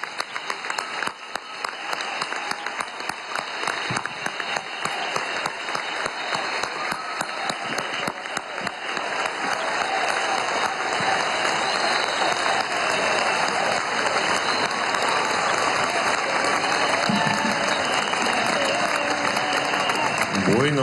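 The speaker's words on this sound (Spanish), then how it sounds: "con nuestros aplausos" Sustained, dense crowd applause fills a large indoor venue, the Poliedro in Caracas, welcoming Venezuelan president Nicolás Maduro at a workers' event; the clapping stays loud and steady throughout with a public-address voice occasionally over it.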